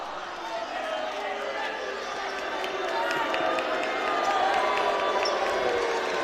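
Spectators fill a basketball arena in a Worcester Wolves versus St Helens Saints game with a broad, rising murmur of reaction. A commentator talks over the crowd noise.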